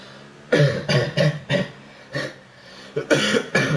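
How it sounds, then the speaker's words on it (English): A person coughs repeatedly in two fits, several harsh, close coughs each, separated by a short quiet pause. "Apologies about my cough, it annoys me too."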